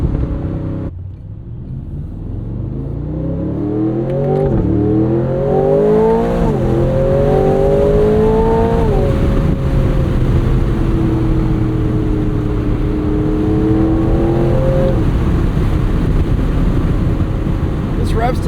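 A 2026 Aston Martin Vantage S 670hp V8 roadster engine revs hard to 7,000 RPM and climbs through several gears, the pitch rising and falling in loud sweeps, with a steady drone between shifts.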